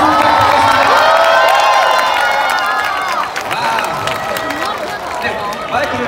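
An audience at a university taekwondo show applauds and cheers as medal-winning athletes come forward: a loud, sustained wash of crowd noise with shouts and whoops throughout.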